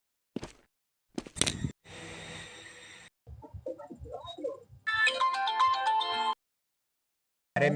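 A mobile phone rings with an incoming call: a loud, bright melodic ringtone bursts in for about a second and a half after some brief knocks and rustling, then cuts off.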